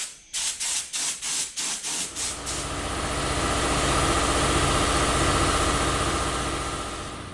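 Spray gun laying a third coat of primer on a carved HDU sign: a few short pulsing bursts, then a long continuous hiss that swells and fades slightly, close and fairly loud.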